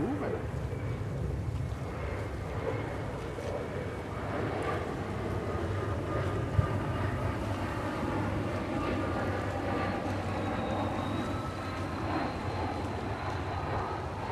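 A Korean airliner takes off from a runway at New York's JFK airport, a steady, distant jet roar that holds evenly throughout, with a person talking quietly over it.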